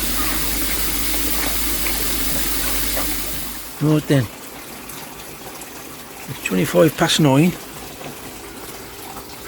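Water runs into a fish tank as it fills, a steady rushing hiss for about four seconds that then stops abruptly, after which someone speaks in two short bursts over a quiet background.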